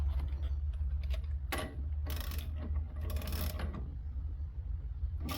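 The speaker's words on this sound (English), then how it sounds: "now I'm tightening it." Ratchet tightening the ball joint nut on a 2014 Mustang GT, close and fairly quiet: a few bursts of clicking pawl action with metallic creaks between them, over a low steady hum and no talking.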